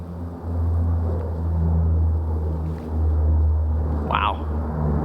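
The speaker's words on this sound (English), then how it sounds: "I was wondering, I hadn't heard a plane in a while." A low-flying airplane passes overhead near a mountain forest campsite, a steady rumbling drone that swells and fades over several seconds, with a brief faint voice.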